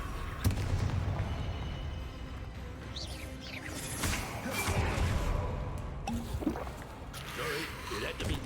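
A Confringo blasting spell goes off in a wizard video game, a sharp burst amid busy game noise, with overlapping voices shouting spell names around it.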